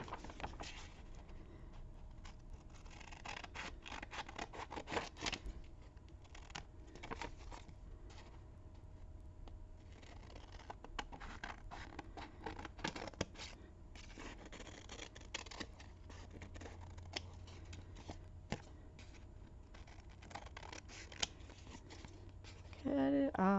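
Scissors snipping paper at a craft table while journaling, a run of short crisp cuts with light paper rustling and handling noises, close and fairly quiet.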